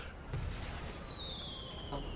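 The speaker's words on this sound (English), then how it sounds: "With my fireworks launcher." A fireworks launcher fires in GTA, a single loud whooshing launch with a long descending whistle trailing off over about two seconds, heard up close.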